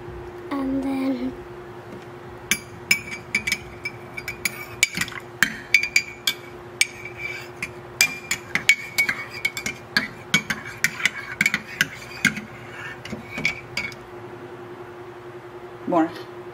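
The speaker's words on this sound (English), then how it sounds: "You take the spoon and mix it now." A spoon stirs chocolate chai in a cup, giving a run of small, quick clinks and taps against the rim close by under a steady hum, while people talk over it at times.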